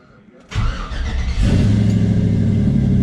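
An LS-swapped Chevy truck engine cranks and catches after a short pause, roaring up loudly, then settles into a strong, steady rumbling idle close by.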